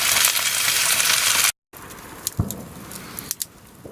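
A stir fry sizzles in a pan at a camp, a dense hissing fry with soft scrapes and taps, broken by a short gap before quieter sizzling and a few clinks.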